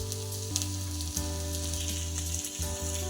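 Stuffed okra fries in oil in a pan with a continuous bright sizzle, steady and close, with occasional faint scrapes from turning and a low hum underneath.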